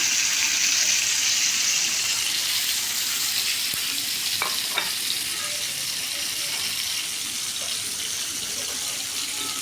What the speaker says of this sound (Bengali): এবার তেলটা গরম হয়ে আসলেই কই মাছগুলো তেলের উপর ছেড়ে দিব